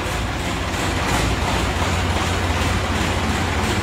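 An Indo Farm tractor's engine runs close by in a village lane, a continuous dense rumbling drone with a heavy low hum that stays steady throughout.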